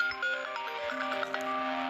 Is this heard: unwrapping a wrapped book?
no